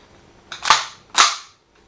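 Two sharp semi-automatic shots from a WE MP7 airsoft replica, each a crisp snap with a short fading tail, about half a second apart, close and loud with no talking.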